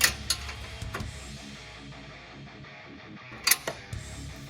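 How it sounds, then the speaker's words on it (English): A 13mm wrench backs a bolt out of an Indian motorcycle during a header install, faint ratcheting clicks and small metallic taps in quiet surroundings, with a few sharper clacks. "We have a bolt here that's holding it to the bike. It's a 13mm wrench."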